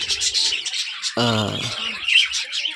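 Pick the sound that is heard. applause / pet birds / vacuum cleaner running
pet birds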